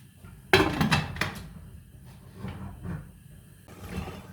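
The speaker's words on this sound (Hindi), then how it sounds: "इसको मैं वेट लगा रही हूँ।" A metal weight clanks onto the vent of a pressure cooker holding chickpeas for a Lahori chole curry, a sharp cluster of clatters followed by softer knocks in a quiet kitchen.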